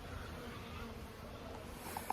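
Robber bees hover and buzz around a poly nuc hive box being fed invert syrup, a steady low insect drone that holds throughout with a couple of faint clicks near the end.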